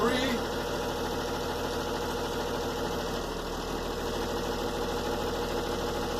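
A truck engine with air brakes and the parking brake still set runs steadily in third gear, producing a constant low mechanical drone with a faint knocking texture, close and unbroken.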